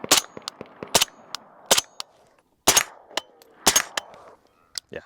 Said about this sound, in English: we're gonna shoot just a couple rounds through the Rattler